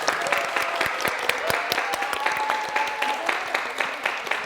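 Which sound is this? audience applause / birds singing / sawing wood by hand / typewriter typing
audience applause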